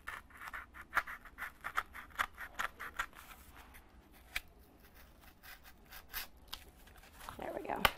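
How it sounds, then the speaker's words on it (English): Scissors snip through printed paper in a steady series of crisp, close cuts with short pauses, ending in a louder rustle of handling near the end. "We might have some areas that we need to go back and cut through."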